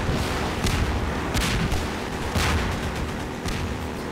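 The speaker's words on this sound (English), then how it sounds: "There's more assholes, more assholes shooting at me." Enemy gunfire in Half-Life 2 at the Water Hazard stage crackles in repeated sharp bursts over a dense, steady rumble of game action, loud and continuous for the whole stretch.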